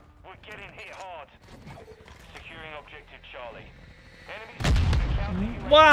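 An explosive drone strike in Call of Duty: Modern Warfare 2 open beta on PS5, a sudden loud blast and roar that follows a stretch of talk and game noise, then a second sharp burst at the end.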